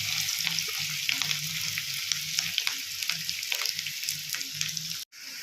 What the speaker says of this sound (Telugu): ఉల్లిపాయ ఒకటి సన్నగా తరుక్కొని ఇలా వేయించుకున్నాను